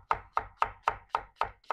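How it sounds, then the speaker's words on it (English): A vegetable knife chops an onion in seven crisp, evenly spaced strokes, each a sharp close thunk with a short tail, in a quick steady rhythm. "I just have a vegetable knife here, and I'm just going up and down, up and down"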